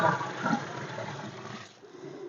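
Water is poured from a bucket into a fermenting herbal mixture, a splashing gush that rises and falls, then tapers off near the end with no talk.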